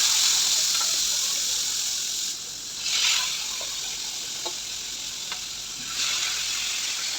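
Washed pieces of aar fish fry in hot oil in a pan with a loud, continuous sizzle that swells and eases as they are stirred, with occasional soft clicks from the utensil.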